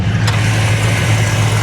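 A 1957 Chevrolet Bel Air with a 327 Corvette V8 of 300 horsepower, running steadily at idle with a deep, even rumble, loud and close with no talk.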